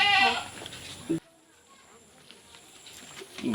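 A goat for sale at a Durga Puja livestock trade gives a short bleat at the start, then near silence, with faint voices and another brief sound at the end.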